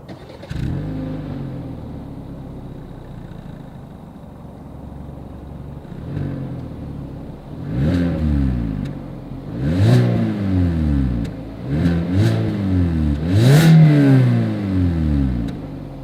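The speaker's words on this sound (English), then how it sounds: "As always, here is that exhaust clip." A 2021 Hyundai Accent's engine idles with a low rumble, then revs sharply several times, each rev rising and falling as the exhaust roars up close.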